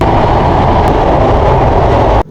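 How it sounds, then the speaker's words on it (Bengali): Jahanabad Express train running near Padma Bridge on the Khulna to Dhaka route, a loud, steady broadband rumble of the moving train filling the whole stretch before cutting off abruptly at the end. "আমাদের ট্রেনটি প্রায় পদ্মা সেতুর কাছাকাছি চলে আসছে"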